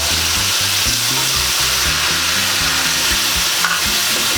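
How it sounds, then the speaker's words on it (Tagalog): Vinegar poured into fish escabeche frying in a pan, giving a loud, steady sizzle and crackle that runs without a break under a low background hum, with no voices. "Ngayon po, ilagay na po natin yung ating suka."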